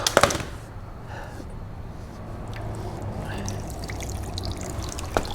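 Water pours out steadily in a continuous splashing trickle after a brief clatter at the start, close by, draining from the flooded engine of a salvaged 2013 Dodge Dart SXT during teardown.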